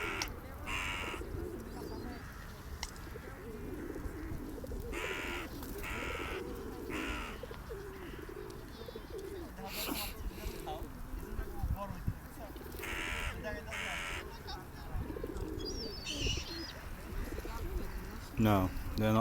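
Pigeons coo and crows caw at a gate in East London, a busy mix of bird calls rising and falling alongside frequent talking throughout.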